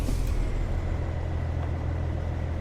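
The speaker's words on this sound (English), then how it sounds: "Oh, hit the brakes. There we go. Finally engaged." In American Truck Simulator, a heavy truck's engine rumbles low and steady while a brief hiss of air brakes releases near the start.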